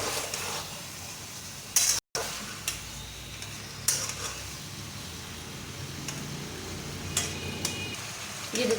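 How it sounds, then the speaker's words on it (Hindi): Sliced potatoes frying in oil in a pan on normal heat, a steady close sizzle broken by occasional stirring scrapes and clinks, with one brief dropout, and no voices. "इसको तकरीबन 4 से 5 मिनट अच्छी तरह से भून लेंगे"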